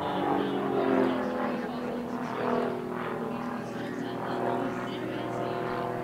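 A Tutor T1 propeller training aircraft flies its airshow display at the Midlands Air Festival 2024, its engine a steady, moderately loud droning hum that swells and eases gently, with a voice faintly present beneath it.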